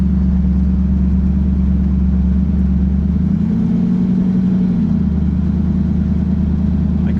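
A 1937 Buick street rod with a BluePrint 350 crate engine pulls up a hill, its loud low rumble steady from inside the car, swelling briefly midway under load before settling again.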